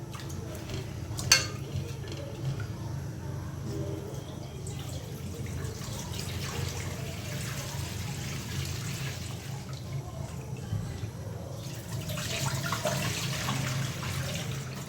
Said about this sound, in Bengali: আর এদিকে হচ্ছে আমি ভাতের জন্য চালগুলো ধুয়ে নিচ্ছি।